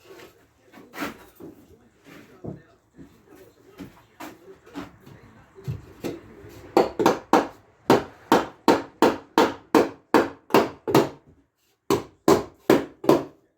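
Wood is cut and hammered for a rolling planer table frame in a workshop, with scattered knocks and handling noise giving way to a long, steady run of loud, evenly spaced hammer blows, then a short pause and a few more strikes.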